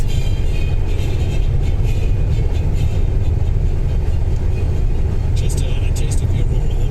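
Car cruising fast on a highway at about 86 miles per hour, with a constant heavy low road and engine rumble and wind noise throughout, and faint voices in the cabin.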